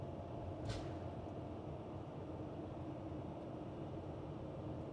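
A 2021 Mercedes-Benz Airstream Atlas van pulls away and accelerates with a steady, broad road and engine rumble heard from inside, even and unbroken apart from one brief hiss early on.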